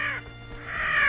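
A crow caws twice, a harsh nasal call followed by a second, louder caw, near and alone.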